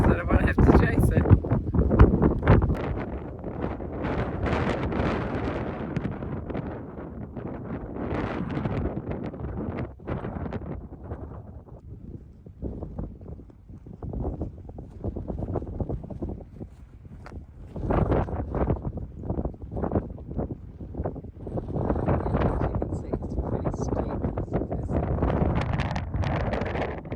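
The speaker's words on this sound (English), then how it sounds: "Yeah, super windy." Strong wind at a hillside campsite buffets the microphone in continuous rough gusts, loud and rumbling, while someone talks over it throughout.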